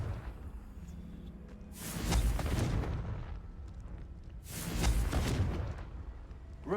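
Two fiery Confringo spell blasts go off in the Hogwarts Legacy video game, each a loud booming burst with a crackling, rushing tail, spaced a few seconds apart over a low rumbling game background.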